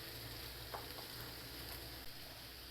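Faint, steady sizzle of carrots simmering in meat pie filling sauce, with a couple of soft stirring taps and no voices.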